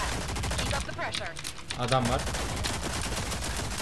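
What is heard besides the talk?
gunfire in the video game Rogue Company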